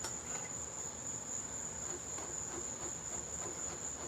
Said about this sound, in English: I heard crickets